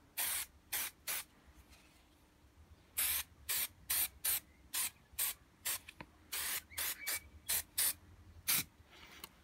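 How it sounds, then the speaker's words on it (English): Contact adhesive is sprayed onto fiberglass in short hissing bursts, loud and close, with brief pauses between each spray in an uneven rhythm. "This is just ordinary contact adhesive"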